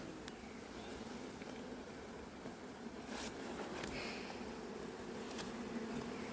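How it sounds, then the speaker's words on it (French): A honeybee swarm buzzes steadily during hiving outdoors in Bussy-Saint-Georges, a dense, continuous hum of many bees close by, with a few individual bees droning past and no talk. "Faut pas qu'il y ait des abeilles partout."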